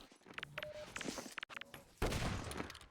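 Shotgun fire in a Half-Life 2 Deathmatch 1v1 tournament match: several sharp bursts ring out amid game footsteps and clatter, ending in a louder, fuller blast of pellets near the end.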